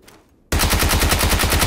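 Video game gunfire cuts in abruptly after a brief quiet moment, a loud rapid automatic burst that keeps hammering steadily to the end.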